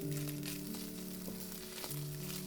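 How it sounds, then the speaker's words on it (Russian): Minced meat browning in a pan gives a steady, even sizzle that runs unbroken for the whole stretch, with a faint tonal hum underneath. "Хорошо обжариваю фарш до красивого румяного цвета"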